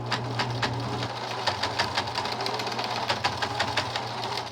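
A sewing machine runs steadily down the length of a costume seam, its needle ticking in a fast even rhythm over a low motor hum, close and moderately loud with no talking.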